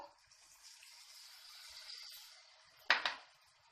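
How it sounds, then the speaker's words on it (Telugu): Water is poured into a pan of bottle gourd masala curry, a soft running trickle that builds gradually before a sharper splash and clatter near the end, quiet overall with no voices. "ఇప్పుడు కొద్దిగా వాటర్ యాడ్ చేద్దాము"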